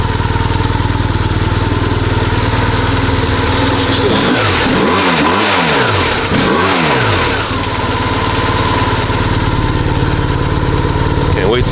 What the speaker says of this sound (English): And right now you hear my motorcycle running.